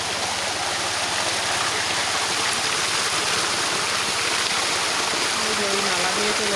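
Water gushes steadily from a motor-driven pump outlet into a field channel, a loud continuous rushing and splashing close by with no breaks.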